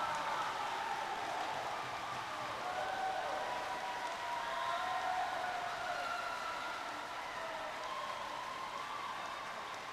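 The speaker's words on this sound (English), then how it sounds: "The fans are making so much noise." A crowd of fans at a high school women's sports match between Huron and Skyline cheers in a sustained roar, loud and continuous with rising shouts and whistles over the whole stretch.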